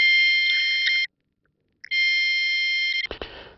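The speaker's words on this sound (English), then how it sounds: "we can turn the buzzer on and off just by pressing the button." A loud, piercing electronic buzzer from an MFT1700 Series continuity tester sounds for about a second, stops, then sounds again for over a second before cutting off with some clicks.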